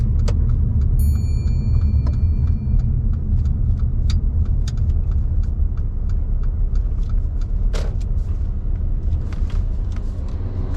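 A learner's car on a mock driving test pulls up and parks at the left kerb behind a red car, its engine a steady low rumble from inside the cabin, with faint clicks and a brief jingle of keys.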